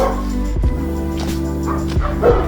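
Dogs next door bark in a few short bursts over a steady low idle of a 1999 Range Rover 4.0 SE engine, the barks sounding a little distant.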